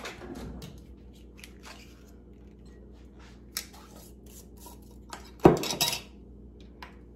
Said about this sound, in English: as soon as I get another spoon out